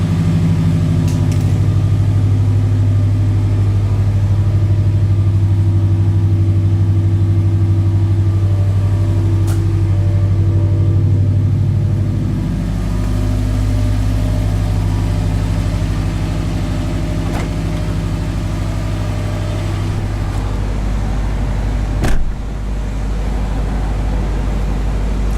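A 2008 Subaru WRX with a muffler delete settles into a deep, loud idle after a cold start, its low rumble steady and close, dipping slightly midway and easing back, with a brief blip near the end.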